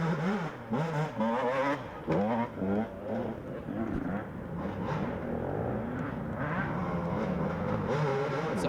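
Two-stroke dirt bikes race at a 2014 GNCC cross-country round at Power Line Park, their engines revving and falling in pitch as they pass, loud and continuous, with voices talking over the motor noise.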